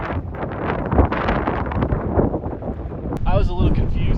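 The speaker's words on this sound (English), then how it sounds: "It's very windy today." Strong wind buffets the microphone on a hike around a Colorado reservoir, a continuous loud low rumble with gusts, joined near the end by a brief voice.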